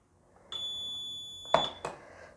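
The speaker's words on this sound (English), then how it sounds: "it will cut the end of period buzzer short" A countdown timer's end-of-period buzzer sounds a steady electronic tone for about a second, then is cut short, followed by two sharp clicks as a wireless reset button is pressed.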